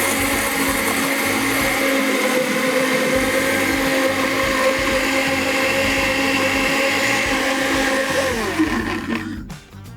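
A kitchen blender whirring loudly as it mixes chocolate while hot coffee is poured in, a steady high motor drone whose pitch drops as it winds down at the end, with no talking.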